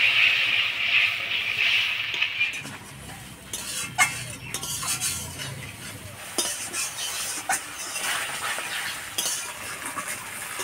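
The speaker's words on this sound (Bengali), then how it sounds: "মশলাটা ভালো করে নাড়াচাড়া করে নিলাম" Spice paste for a giant freshwater prawn curry fries in a pan as a spatula stirs it. Repeated scrapes and metallic clinks sound over a steady close sizzle, with no talking.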